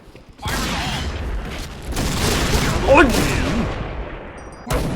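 Gunfire in a Point Blank shooter match, a sustained stretch of rattling shots and mechanical clatter after a brief quiet start, loud and close, with a fresh burst at the very end.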